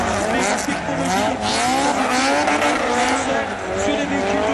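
Drift cars at the Drift Turbo Paris tuning show skid with continuous wavering tire squeal and engine howl, loud and close, with a voice talking over it.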